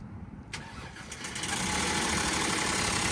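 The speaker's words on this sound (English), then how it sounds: "some timing chain rattle" An Audi Q7 engine cranks and starts, catching after a brief whirr and settling into a steady idle with a faint metallic timing chain rattle beneath the running engine.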